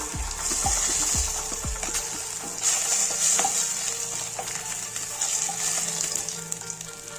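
Pieces of katla fish fry in oil in a pan, giving a continuous bright sizzle with a few low knocks and clinks of the pan early on, and no voices.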